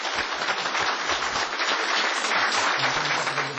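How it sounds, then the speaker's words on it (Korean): Steady, dense studio applause welcomes Democratic United Party presidential candidate Moon Jae-in to a broadcast journalists' club debate, even and sustained throughout. "박수로 맞이해 주십시오."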